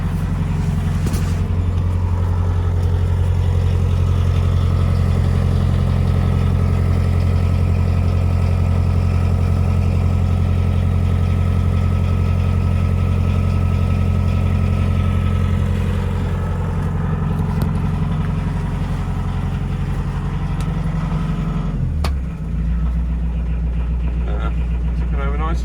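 A narrowboat engine idles and ticks over steadily with a deep continuous rumble and a faint rhythmic chug, close and loud, while a voice talks over it, the note dipping briefly near the end.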